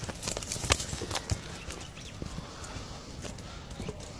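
A horse's hooves clip-clop at a walk while it is ridden, giving a steady series of close, fairly loud thuds over light outdoor background noise. No one speaks during the clip.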